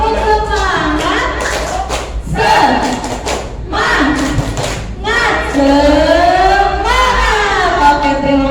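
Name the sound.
audience doing the 'tepuk semangat' spirit clap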